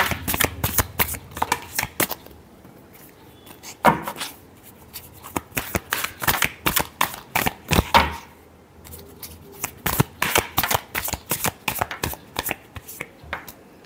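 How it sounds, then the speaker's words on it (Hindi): Tarot cards are shuffled by hand, a loud, close run of quick riffling and tapping strikes that continues steadily with brief pauses and no voice over it. "Last shuffle."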